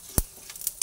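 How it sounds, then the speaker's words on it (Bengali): Dry red chillies and cumin seeds fry in hot oil on a medium gas flame, heard as a soft close sizzle punctuated by a few quick scraping stirs. "শুকনো লঙ্কা আর সাদা জিরেটা ভেজে নিচ্ছি।"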